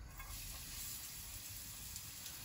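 Okonomiyaki batter with cabbage fries in vegetable oil in a fry pan, a soft, continuous sizzle that holds steady and faint throughout, with no talking.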